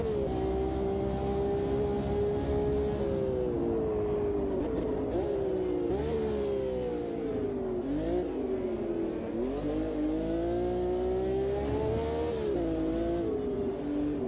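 A V12 racing car engine in a racing video game, revving steadily at a sustained high pitch that rises and dips repeatedly with throttle and gear changes, loud and continuous throughout.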